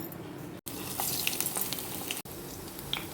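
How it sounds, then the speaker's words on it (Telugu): Ridge gourd and ragi flour vadas fry in a pan of hot oil, giving a steady close sizzle with faint bubbling crackles and two brief cuts to silence. "ఇలా వడల కింద ఒత్తుకొని మూకుళ్ళలో వేసి వేగించేసుకోవాలి."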